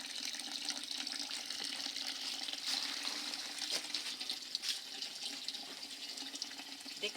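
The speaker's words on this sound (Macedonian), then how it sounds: "Течата вода горе." Water running steadily at a monastery site, a continuous hissing flow heard alone at moderate level without talk throughout.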